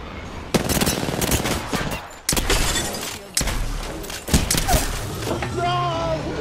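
Video game gunfire crackles in rapid bursts, loud and close, broken by sharp gaps and a few heavier thumps, with game sounds trailing at the end.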